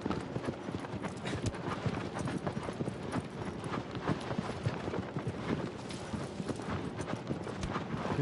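Hoofbeats of a horse galloping in the video game Shadow of the Colossus, a steady, rapid clip-clop that runs loud and continuous under a dense, busy game soundscape.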